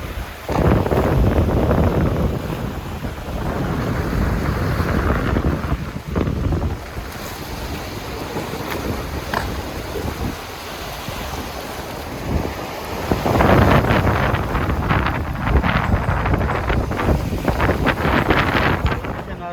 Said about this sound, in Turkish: Yani dalga sesi, bu rüzgar, yani doğa çok güzel ya.